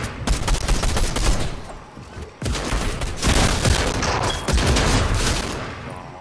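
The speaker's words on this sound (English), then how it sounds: "this bot that's shooting us in the back will not fucking stop" Sustained bursts of automatic gunfire from a bot in Fortnite, loud and close, with rapid overlapping shots and one brief pause before the firing resumes.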